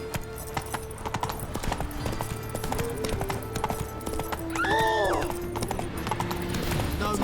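Horse hooves clip-clop steadily in The Witcher 3 video game, a continuous rhythmic trot under game ambience and music, with a brief whinny partway through.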